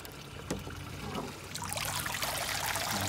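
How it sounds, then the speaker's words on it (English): Water trickles and splashes through an aquaponics system for koi fry just after it is switched back on, a light pouring and dribbling sound that builds slightly and runs continuously, close by with no talk. "And just runs water through here."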